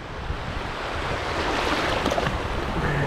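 Sea waves breaking and rushing on a sunny beach at Cua Dai, Hoi An, a continuous loud surf wash with wind buffeting the microphone, swelling slightly toward the end.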